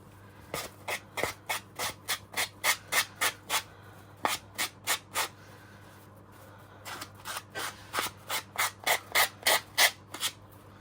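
Repeated bursts of dry scraping strokes in quick rhythmic runs, close up, with a short pause midway before the scraping resumes.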